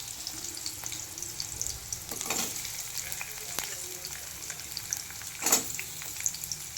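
Potatoes and ground chillies frying in oil for sabudana khichdi, a soft steady sizzle with occasional stirring scrapes and a louder spatter burst near the end, no talking.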